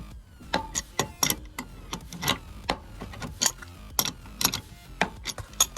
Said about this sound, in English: I'm going to have to do it with a trusty old Manuel spanner.